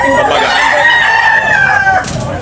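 Gamecock rooster offered for sale crowing once, loud and close, with a long drawn-out call that drops off near the end, followed by faint background noise.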